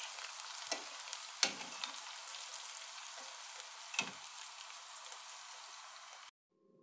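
Dough balls fry in a pot of hot oil, giving a steady, even sizzle broken by a few brief stirring knocks, with no talking and a sudden cut to silence at the end.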